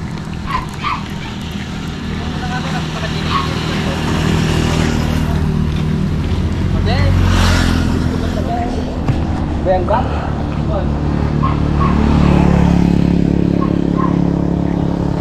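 Motorcycle passing on a road, a rising and fading engine drone under continuous talk, with other traffic noise around it.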